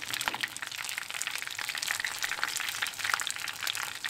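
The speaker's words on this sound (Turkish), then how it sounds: "Bunlar kızaran böreklerimi tavadan alıyorum." Börek pastries sizzle in hot oil in a pan, a steady dense crackle with scattered sharper pops running throughout, fairly close and with no voices.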